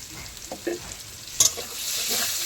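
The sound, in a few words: pointed gourd frying and stirred in pan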